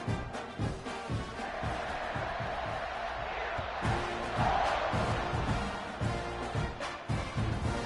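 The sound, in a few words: football stadium crowd cheering after a touchdown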